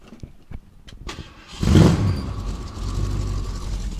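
A 1967 Ford Mustang engine cranks with a few ticking clicks, then catches with a loud burst and settles into a rough, rumbling idle that continues to the end, close and unaccompanied by talk.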